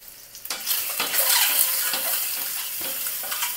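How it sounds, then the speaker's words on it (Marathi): Eggs being sautéed in a pan with red chili powder, turmeric and salt, giving a loud close sizzle with spatula scrapes and stirring clatter throughout, no talking. "ह्याच्यामध्ये अंडी परतून घ्यायची।"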